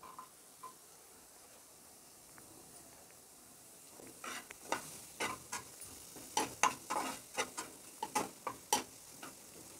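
Tomatoes being stirred into okra frying in a little oil: faint sizzling under a run of close, rhythmic spatula scrapes and taps against the pan.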